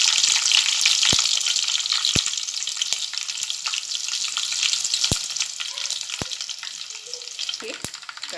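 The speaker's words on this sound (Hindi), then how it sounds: "राई और जीरा डालूंगी, तो थोड़ा अच्छा तेल में फ्राई होने दूंगी" Mustard seeds and cumin frying in hot oil for a tadka, a steady close sizzle with sharp seed pops and crackles scattered throughout, no talking.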